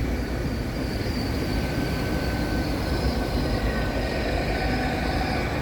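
A Great Western Railway Class 800 five-car train, unit 800-029, runs the 10:43 from Bristol Temple Meads to London Paddington at Bath Spa, giving a loud, steady rumble with an airy hiss and a faint tonal whine throughout.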